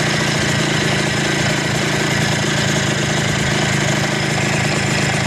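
Small engine running steadily at idle during electrical troubleshooting of a vehicle whose headlight and signal lights dim or cut out; a continuous, even mechanical drone with no talk.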